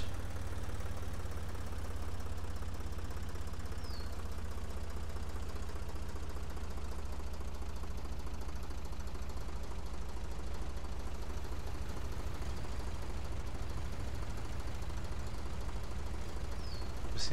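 Tractor engine in the racing video game Farm Machines Championships 2014, a steady low droning rumble that runs unbroken and fairly loud throughout, with no talk over it.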